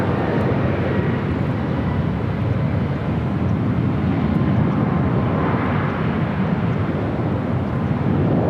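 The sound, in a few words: airplane landing on runway 24 left at LAX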